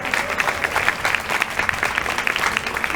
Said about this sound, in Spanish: Pido un aplauso porque lo logramos por fin.